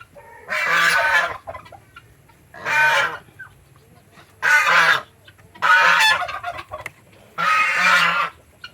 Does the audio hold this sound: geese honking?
yes